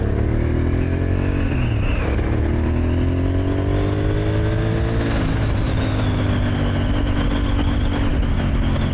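An A2-licence motorcycle engine drones loudly and continuously, its pitch rising and falling as it accelerates and shifts gears.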